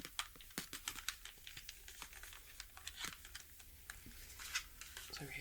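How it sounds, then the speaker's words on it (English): Plastic packaging around an original Nintendo 64 controller being unwrapped up close, with soft crinkling and tapping in an irregular run of small clicks and rustles, quiet and intimate in an ASMR setting. "let me unwrap it."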